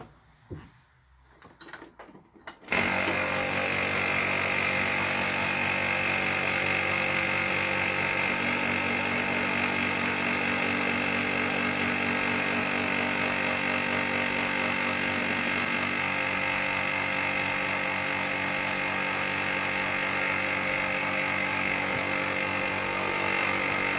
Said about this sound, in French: je vais démarrer la pompe à vide